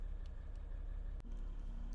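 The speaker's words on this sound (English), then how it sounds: "we've had the car running for a little bit now" A Maserati engine idles after being switched on, a steady low rumble that stays even throughout, with a single brief click partway through.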